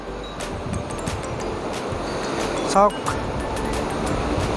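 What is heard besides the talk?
river water rushing below a bridge in Roing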